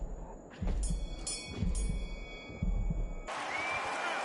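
A boxing ring bell clangs three times in quick succession in the boxing video game Undisputed, leaving a sustained metallic ring before loud arena crowd noise swells.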